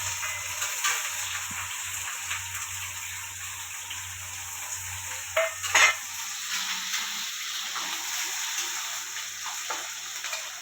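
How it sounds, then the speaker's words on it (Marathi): Curry leaves, sliced onion and green chillies fry in a pan with a steady sizzling hiss, a brief clatter of stirring midway, and no talking. "कढीपत्ता टाकून घेते. आणि एक कांदा आणि 2-4 हिरव्या मिरच्या कापलेल्या त्या टाकून घेते."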